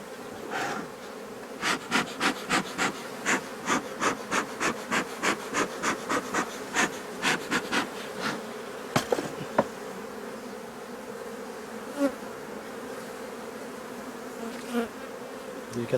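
Honeybees buzz steadily around an open beehive during a check for swarm cells, with a dense close hum and a run of rhythmic clicking or tapping as a frame is handled.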